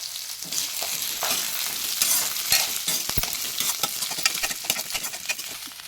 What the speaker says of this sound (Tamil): தேங்காயை சேர்த்து நல்லா வறுத்துக்கலாம்